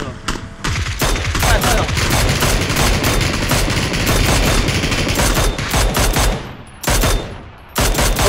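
Rapid bursts of automatic gunfire in the video game PUBG Battlegrounds crackle loudly and almost nonstop, with a couple of brief pauses near the end.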